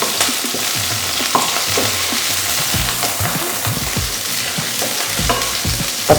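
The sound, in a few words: sautéing garlic, curry leaves and green chilli in pan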